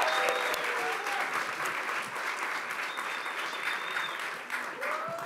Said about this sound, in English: let's give our awardees a final last round of applause